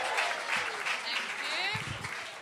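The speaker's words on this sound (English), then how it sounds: "stamp your feet, people. Clap your hands. Whoop and cheer." A stand-up comedy benefit audience applauds and cheers with whoops as a comedian is welcomed to the stage. Dense, steady clapping and crowd noise fill the whole stretch.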